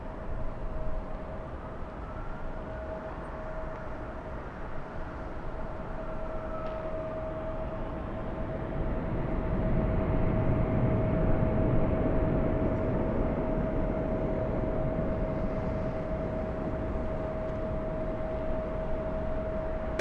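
A Delta heavy jet rolls for takeoff on LAX runway 24 left, a broad distant roar swelling midway and holding steady, with a faint steady tone above it.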